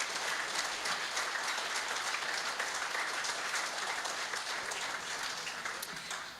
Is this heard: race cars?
no